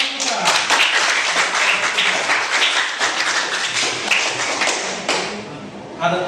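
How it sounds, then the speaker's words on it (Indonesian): Classroom of students bursts into dense, sustained applause lasting several seconds, with scattered voices and chatter mixed into the clapping. "Oke. Tepuk tangan."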